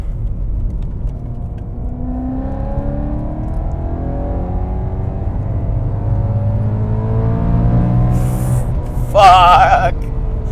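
A rare supercharged BMW M3 sedan on good tires revs hard as it drives. Its engine note climbs steadily in a loud, continuous drone, and a brief exclamation from a person bursts out near the end.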